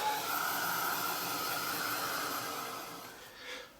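A hair dryer blows steadily on a collage art journal page to dry matte medium, a close continuous whooshing hiss that fades slightly and shifts near the end.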